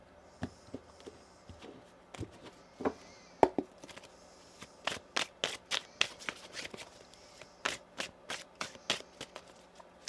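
Tarot cards shuffled by hand in a quiet room: a run of sharp, dry riffles and taps that starts sparse and grows into quick, closely spaced bursts, close to the microphone with no talking.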